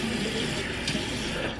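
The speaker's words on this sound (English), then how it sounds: "And then I put the water on." Water runs from a tap and splashes while a face is washed, a continuous close gushing rush lasting the whole moment.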